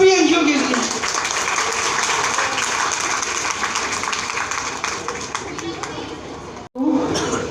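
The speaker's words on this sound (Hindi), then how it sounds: "आज मैं चाहूँगा एक बार जोरदार ताली इन सभी एनजीओ के लिए" An audience at an education award ceremony applauds for NGOs. Loud sustained clapping with crowd noise and chatter stops abruptly, then a voice starts.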